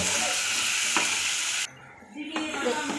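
Onion, ginger paste and tomato fry in a pan with a loud continuous sizzle and stirring scrapes, then the hiss drops sharply for a moment before rising again, with no talking.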